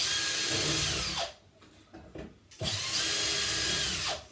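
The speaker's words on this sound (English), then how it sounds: "Drill it, it's easier." A power drill bores during a bathroom installation, running in two loud, sustained whining bursts separated by a brief quieter pause with softer handling sounds.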